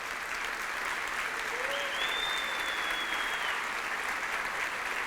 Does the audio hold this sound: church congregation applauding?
yes